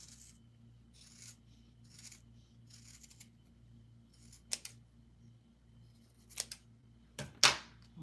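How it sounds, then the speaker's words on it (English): A few sharp snipping clicks from scissors trimming paper, spaced out and then clustered toward the end, over a quiet steady hum. "So now I'm gonna take my scissors"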